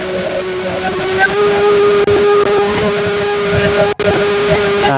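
An HJ816 Pro RC boat with a brushless motor runs at full throttle, giving a loud, steady high-pitched motor whine with buzzing harmonics that holds for the whole stretch, broken only by brief dropouts.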